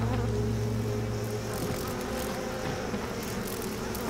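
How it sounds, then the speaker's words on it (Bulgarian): A dense swarm of mosquitoes hums in the horror video game Outlast 2, a steady, close, droning buzz that fills the whole moment without a break and with no voices. "Те са някакви комари, като пълни птички направо, бе."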